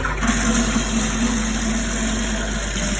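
A cyanotype print is rinsed and smoothed back and forth in a tub of water, giving a steady, continuous wash of water noise that stays close and even throughout, with no voices.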